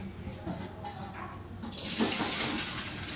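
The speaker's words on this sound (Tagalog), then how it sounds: "Papatubudan ko ng tubig." Water is poured, rising midway into a loud, steady gushing rush with a bright hiss, following quieter clinks and faint background voices.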